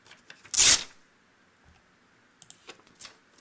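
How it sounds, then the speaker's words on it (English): Paper torn once in a sharp, loud rip lasting about half a second, recorded to make a custom sound effect for an RPG Maker MV game, followed by a few faint rustles and small clicks. "So I ripped some paper,"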